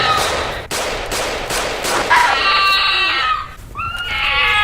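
Zombies in the Roblox game Those Who Remain make a loud, continuous run of shrieking, whinnying cries with harsh bursts, filling the whole stretch.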